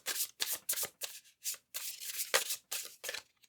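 A deck of tarot cards shuffled in a run of brisk, crisp riffling bursts, close and fairly loud, separated by short pauses, with no voices.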